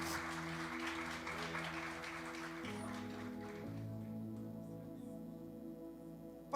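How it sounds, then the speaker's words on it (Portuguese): Faint church congregation clapping fills the first few seconds beneath sustained organ or keyboard chords, then the applause fades away and only the held music remains. "Aplauda ao Senhor com uma linda e forte salva de palmas para Jesus."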